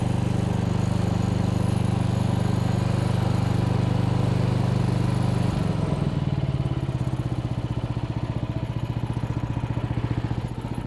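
A homemade small tractor built from VAZ car parts runs with a loud, steady engine drone and rhythmic mechanical chugging up close, its pitch dropping partway through before settling into a lower, pulsing idle.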